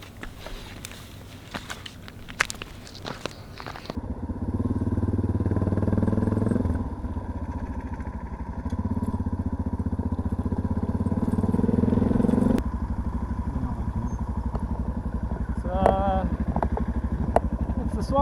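A motorcycle rides through a swamp on an overland trip in Tajikistan, its engine droning loud and close for a long stretch, with rattles, clatter and splashy crackles, a cheer near the end and voices talking over it.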